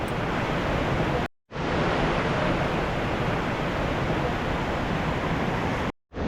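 Takakkaw Falls in Yoho National Park, British Columbia, Canada, a steady broadband roar of falling water on a rainy day, loud and continuous, with two brief silent gaps.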